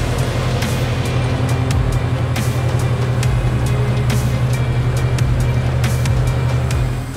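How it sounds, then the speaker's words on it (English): A 287-horsepower Deutz-Fahr Series 8 tractor with a mounted Simon triple bed rotary hoe works a vegetable field, its diesel drone steady and loud with a constant low mechanical churn and scattered clicks and knocks. "Mounted to the 287 horsepower Deutz-Fahr Series 8 is a triple bed rotary hoe from the French manufacturer Simon."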